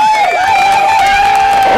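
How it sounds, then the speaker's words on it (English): A canned clapping sound effect played on a radio show, a continuous crowd of clapping and cheering with a tonal musical layer running through it. "What was the clapping?"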